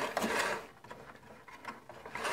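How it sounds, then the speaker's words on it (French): Belt and disc sander with its sanding belt turned slowly by hand during tracking adjustment, giving soft mechanical clicks and ratchety rubbing in short irregular bursts, fairly quiet and close, with no talk. "je fais ce réglage en faisant tourner la bande à la main"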